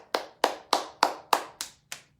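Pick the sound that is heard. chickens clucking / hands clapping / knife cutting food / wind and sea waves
hands clapping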